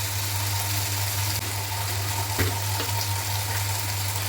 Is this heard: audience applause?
no